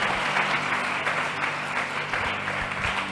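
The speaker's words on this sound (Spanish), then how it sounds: "Aplaudimos al Señor por su palabra" A church congregation applauds together during a service, a dense, steady wash of clapping that holds at an even level throughout.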